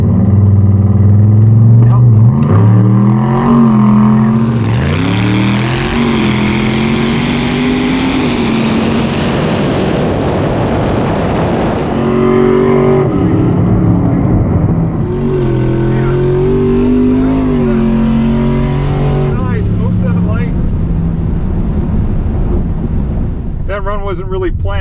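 A Tesla Plaid launches down a drag strip against trailered muscle cars, a loud rising electric-motor whine and roaring wind that surges, drops and climbs again, with brief speech near the end.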